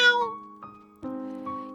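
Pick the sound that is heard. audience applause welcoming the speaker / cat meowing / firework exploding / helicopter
cat meowing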